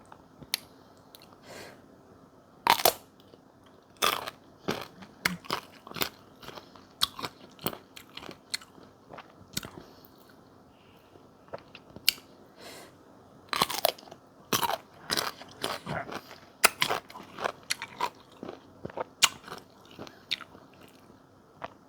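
Crisp, sharp crunches of teeth biting into a firm, crunchy green Phimsen mango, repeated many times at an uneven pace up close, with quieter chewing between bites and no talking.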